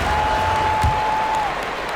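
Arena crowd applause in the NBA 2K26 basketball video game after a dunk. A steady, even wash of clapping and crowd noise runs throughout at moderate loudness, with a thin sustained tone over the first part.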